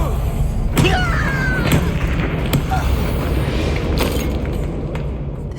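Confringo blasting spell explosions in Hogwarts Legacy, heavy booming thuds repeating every second or so inside a closed mine, loud and close with crackling debris over a rumbling background.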